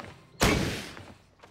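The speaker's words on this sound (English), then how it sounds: "This t-shirt cannon makes cleaning closets a blast!" A cartoon t-shirt cannon fires once with a sudden loud whoomp that fades out over about a second, with no talking over it.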